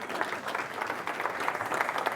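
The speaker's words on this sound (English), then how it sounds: "So we would give them a round of applause." Moderately faint, steady applause rises from a conference audience in a hall, many hands clapping in a busy, continuous texture with no voices standing out.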